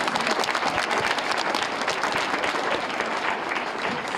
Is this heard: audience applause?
yes